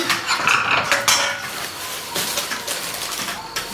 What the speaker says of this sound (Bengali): এটা খুন্তি নিয়েছি